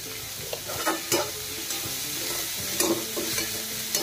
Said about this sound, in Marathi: कांदा सुद्धा आपल्याला ह्याच्यात चांगला आता परतून घ्यायचा आहे, चांगला लाल होईपर्यंत परतून घ्यायचा आहे.